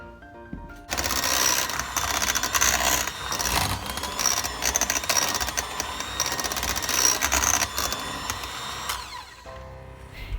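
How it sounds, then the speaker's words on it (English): An electric hand mixer mashing a large batch of cooked potatoes runs steadily and fairly close for about eight seconds with a whirring, rattling motor tone, then stops, leaving quiet. "mixing them up with my mixer in batches"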